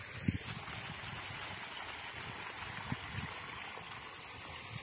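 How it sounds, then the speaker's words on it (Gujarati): Irrigation water flows from a filled field plot into the next one on a farm in Mandvi. It makes a soft, continuous rushing trickle at low volume with a few faint knocks, and no voices. "બીજા કિયારામાં પાણી જાય છે"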